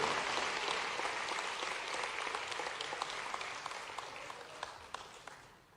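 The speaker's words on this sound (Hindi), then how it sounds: "जोरदार तालियों से माननीय मुख्यमंत्री जी का स्वागत करिए" Sustained applause from an audience welcoming the Chief Minister at a civil services selection ceremony, dense and steady before gradually thinning out toward the end.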